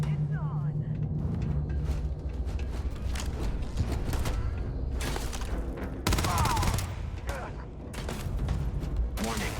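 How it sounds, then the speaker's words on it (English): A robot fires at the player in the video game Starfield: rapid bursts of gunfire and mechanical clatter run continuously under excited talking, with a louder burst midway. "Now the robot's shooting at us"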